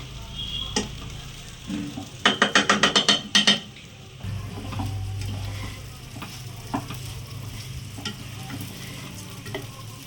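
Rice for Bengali basanti pulao fries and sizzles steadily in a pan, with a quick run of sharp, rhythmic spatula clinks and scrapes in the middle, then a softer continuous hiss of frying as stirring continues.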